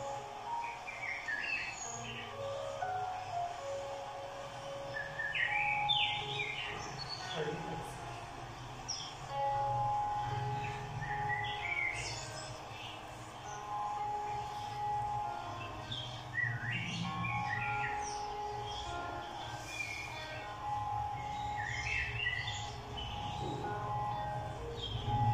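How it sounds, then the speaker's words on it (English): Birdsong played over loudspeakers in KLCC Park, a green city park in Kuala Lumpur, with many chirps and tweets repeating steadily throughout over a low hum of city background. "So probably they have played sound of birds for relaxation."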